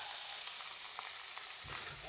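Marinated meat, added to a pan with onion, turmeric and ginger, sizzles and fries with soft crackling pops, a quiet steady hiss and a brief stirring scrape near the end.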